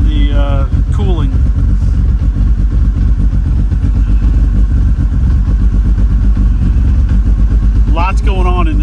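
A Ford RS200 Evo rally car's loud, rough engine roars steadily inside the cabin in city traffic, with constant rattles and clatter, and a voice speaks briefly near the start and end.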